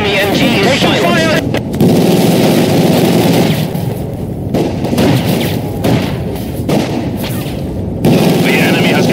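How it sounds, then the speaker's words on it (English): Sustained machine gun fire and battle noise rattle through Company of Heroes 2 during the Battle of Stalingrad, dense and loud, with booms mixed in beneath spoken unit voice lines. "Enemy MG is taking fire!"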